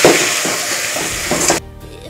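Onions frying in a pan while being stirred, a dense close sizzle with soft scraping strokes, cutting off abruptly near the end.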